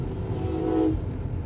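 A train passes nearby with a low steady rumble and a brief horn tone, heard alone without talk.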